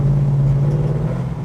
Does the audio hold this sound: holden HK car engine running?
yes